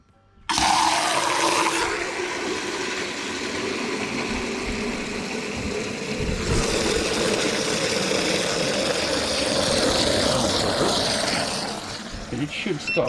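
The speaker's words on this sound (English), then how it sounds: "I'm going to attempt to fill it using this meter and see if I get 3 litres into this jug" Water rushes through a volumetric fill meter into a 3-litre jug, a loud, steady gushing stream that surges partway through and stays strong until the flow cuts off near the end.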